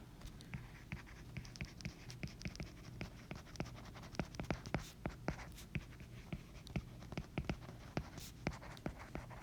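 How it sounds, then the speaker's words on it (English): Pen strokes and taps while notes are written down during a chemistry lecture, a steady run of close, sharp ticks and scratches with a faint room hum beneath and no speech. "So I want to write that down so that you have it."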